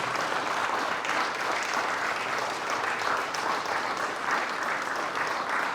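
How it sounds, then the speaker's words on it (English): Audience applause at an aviation recognition dinner, a steady dense clapping from a large room that holds evenly loud throughout. "Let's give them a round of applause for their involvement"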